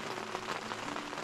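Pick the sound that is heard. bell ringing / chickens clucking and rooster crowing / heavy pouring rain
heavy pouring rain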